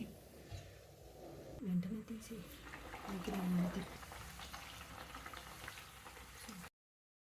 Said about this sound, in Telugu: మిగతా పిండి అంతా కూడా ఇదే విధంగా బూరెల్లాగా ఒత్తుకుని వేయించుకుందాం